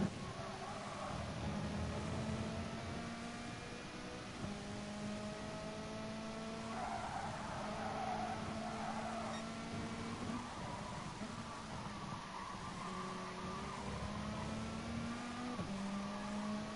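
Touring cars, a Honda Accord and a Vauxhall Vectra, race at Brands Hatch Indy in GT Sport, their engines droning and shifting pitch steadily under a commentator's continuous talk, with occasional rising revs.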